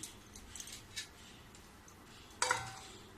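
A metal spoon is lifted out of a bowl of cream mixed with curd, giving one sharp clink after faint, quiet handling noises.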